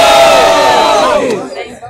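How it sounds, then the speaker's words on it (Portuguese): A loud crowd cheers and shouts with excitement at a semifinal rap battle at a cultural street gathering, a sustained roar that fades at the end. "Barulho pra quem gostou das rimas de Fã, Paixão e Betinho."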